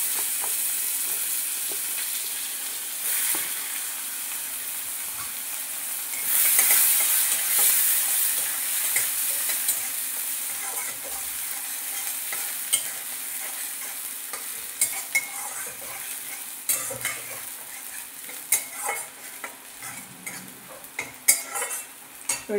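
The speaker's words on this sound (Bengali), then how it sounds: "সাদা জিরে ফোড়ন দেবো, দিয়ে পেঁয়াজ কুচি দিয়ে দেবো" Cumin seeds and chopped onion fry in a pan with a steady sizzle and hiss, while a spatula or spoon scrapes and clinks against the metal in sporadic strokes throughout.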